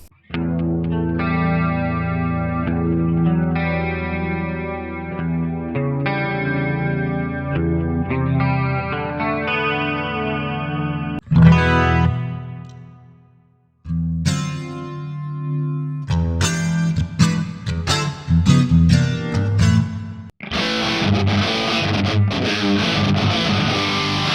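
Electric guitar played through a Kemper Profiler Player using its drive, fuzz and pitch-shifter effects: sustained chorus-washed notes give way to gritty distorted chords and a thick fuzzy wall of tone, loud and continuous.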